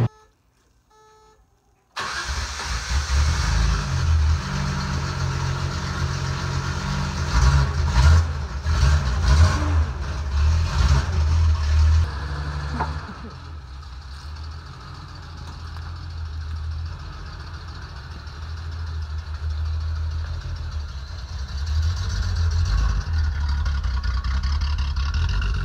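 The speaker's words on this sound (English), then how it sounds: "There's actually video of this car's first start and first drive." A Datsun 280Z that sat unused for a decade starts up after a brief silence, then its engine runs with a loud, rough idle and some revving before settling to a lower, steady hum.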